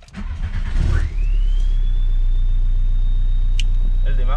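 A Volkswagen Golf 3 GT's engine cranks and catches, then settles into a loud, steady idle with a rising whine, heard close up. A brief clatter comes near the end.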